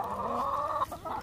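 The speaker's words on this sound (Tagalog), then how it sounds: "Ito na ang manok." Chickens at a poultry farm cluck continuously and close together while being fed, a busy overlapping chatter of hens at moderate volume with no talking.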